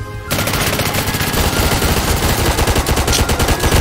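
Rapid automatic gunfire from a tier 10 pulse rifle in the Roblox game Zombie Uprising, a loud, steady stream of close shots that begins abruptly and carries on without pause.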